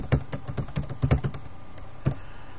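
Keystrokes on a computer keyboard, a quick irregular patter of close, crisp taps with a short pause before a final pair of keys, no voice over them.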